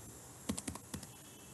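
Several quick keyboard keystrokes on a computer keyboard, a short burst of four or five clicks in an uneven rhythm, close and fairly quiet over a faint room hiss, with no talking.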